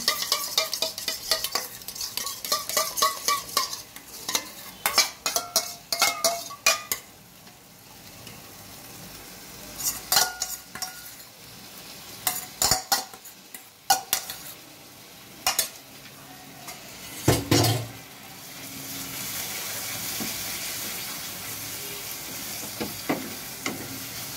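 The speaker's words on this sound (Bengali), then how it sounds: "এখানে দই আছে, ফেটিয়ে দেবো।" Yogurt whisked in a kitchen for vegetarian potoler dolma, a series of sharp, irregular stirring and clinking strokes against a bowl, with a soft sizzling hiss continuing toward the end.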